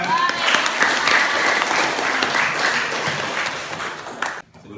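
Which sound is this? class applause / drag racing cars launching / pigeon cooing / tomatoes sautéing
class applause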